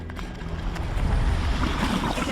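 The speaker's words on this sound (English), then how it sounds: "You can start to hear these vents because there's gas and there's water and mud slurry that's coming out right here" Active mud volcano vents push out gas, water and mud slurry with a dense, steady low churning and gurgling roar, close and continuous, overlaid by some wind buffeting on the microphone.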